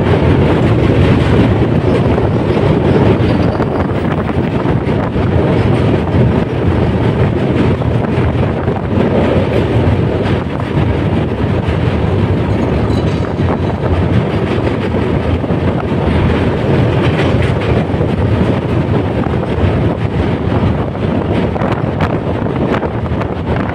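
The Saraighat Express, Howrah to Guwahati, runs toward the Brahmaputra bridge with a loud, steady rumble and rush of wind heard from on board, continuous throughout with no talking.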